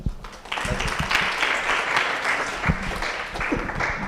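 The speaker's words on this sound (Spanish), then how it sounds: "Un aplauso para el doctor." An audience at a medical lecture on central nervous system tumors claps to welcome a doctor, a brief moderately loud burst of applause lasting a few seconds.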